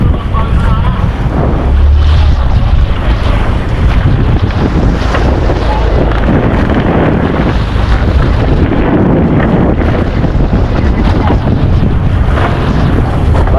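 Big ocean waves and strong wind buffet a fishing boat out at sea in the south Philippine Sea, with loud, continuous roaring and crashing water, heavy wind rumble on the microphone and occasional surges.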